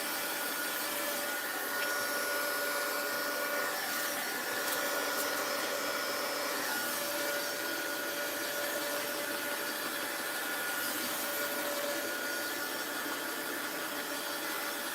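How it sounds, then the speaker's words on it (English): A vacuum cleaner runs indoors during cleaning, giving a steady, quiet, unbroken whirring drone with no talking. "you know who pushes the vacuum"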